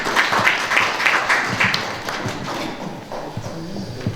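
Applause greets a speaker being welcomed at a Korea Fine Arts Association art event, a burst of many hands clapping close by with scattered sharper claps, fading slightly toward the end.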